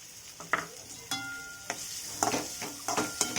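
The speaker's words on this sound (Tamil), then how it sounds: "எண்ணெய் சூடானதுக்கப்புறம் நறுக்கி வச்ச வெங்காயத்தை அதில் போட்டு" Onions sizzle in hot oil with intermittent scraping and stirring strokes from a spatula, close up, no talking.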